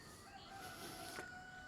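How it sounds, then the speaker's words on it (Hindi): A rooster crows once in the morning near an agricultural university campus where chickens are raised, a faint, distant call over a soft background hum. "यहाँ के लगता है सुबह हो गई और मुर्गियों की बांग"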